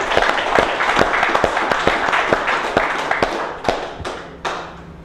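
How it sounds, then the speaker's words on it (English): A small studio group claps along in a loose, uneven rhythm, individual sharp hand claps and thumps standing out clearly up close before tapering off to a few final claps. "Let's clap it."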